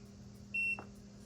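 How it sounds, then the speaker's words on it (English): A Neakasa M1 self-cleaning cat litter box gives one short, clear electronic beep when its Wi-Fi button is held down, in a quiet room. "hold the Wi-Fi button down for 3 seconds till she hears a beep"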